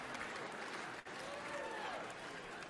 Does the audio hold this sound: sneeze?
no